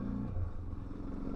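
A Suzuki DR650 motorcycle rides along a forest dirt track, its engine a steady low rumble with clattering and scraping from the rough surface, close and continuous without any talking.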